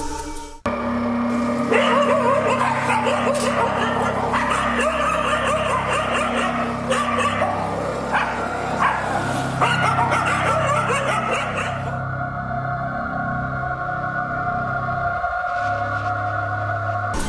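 Stray dogs on a street bark and yelp in a dense, overlapping chorus for several seconds, loud and nearby, before the commotion drops away to a quieter street ambience.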